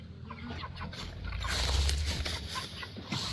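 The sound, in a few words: chicken clucking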